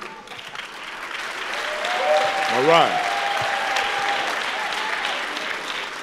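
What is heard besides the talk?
church congregation clapping loudly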